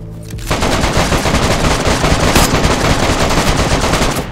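Rapid automatic gunfire in the DayZ video game, a dense continuous burst of loud shots near the listener that starts after a brief moment and runs without pause.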